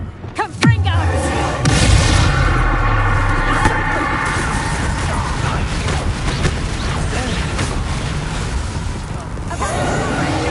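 A Confringo fire spell explodes in Hogwarts Legacy, opening with a sharp blast and a loud booming burst, then rumbling, crackling combat noise that fades slowly.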